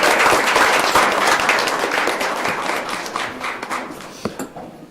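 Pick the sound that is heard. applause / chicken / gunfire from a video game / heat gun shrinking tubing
applause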